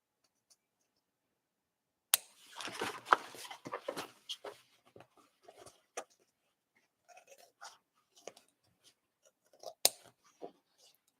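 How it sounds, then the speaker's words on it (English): Scissors make quick, close, crisp snips in fabric while a tote is sewn, with a busy burst of cutting and handling followed by scattered single snips in near silence. "just snip to that triangle and then snip right up to, but do not snip your threads"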